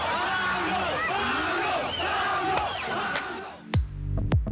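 At Pablo Escobar's funeral, in archival footage, a huge crowd of thousands cheers and roars around his coffin in a dense, loud wall of voices that ends in a few sharper shouts.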